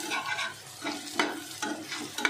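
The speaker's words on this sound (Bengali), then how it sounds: "আলু আর পেঁয়াজটা একটু বেশি ভাজা হয়ে গেল।" Potatoes and onions fry in oil in a pan while a utensil scrapes and stirs them in a loose repeating rhythm over a steady, soft sizzle, close up with no voices.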